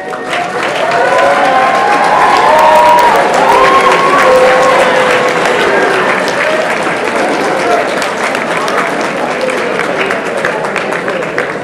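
Students at a youth winter congress session give a sustained round of applause, loud dense clapping with a few voices and whoops mixed in, holding steady throughout.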